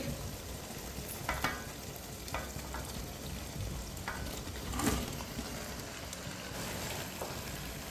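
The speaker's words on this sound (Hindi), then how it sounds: "फ्राई किया हुआ चिकन डालेंगे" Fried chicken being added to biryani masala in a pot and mixed for Hyderabadi biryani, with a continuous soft sizzle and occasional spoon scrapes and clinks, fairly quiet and close.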